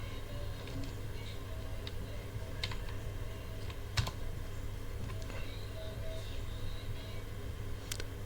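Someone types on a computer keyboard, with quiet, irregular key clicks close by and a few sharper taps over a low steady background hum.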